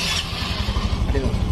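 A Yamaha Mio M3 scooter engine cranks on its electric starter and catches into a steady, close rumble, with someone talking over it.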